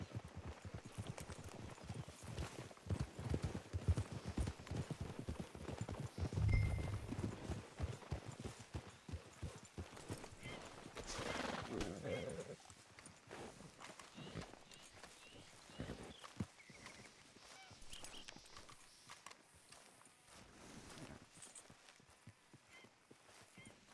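Horses walk with steady hooves clip-clopping in Red Dead Redemption 2, a busy rhythmic patter at moderate distance, with snorts, a whinny and light movement around them.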